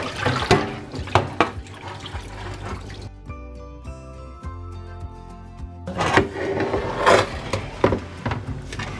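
Salmon fillet rinsed under a running kitchen tap after a brief lemon-water soak, steady splashing water near the mic, broken midway by a quieter stretch with faint ringing tones before the flow returns.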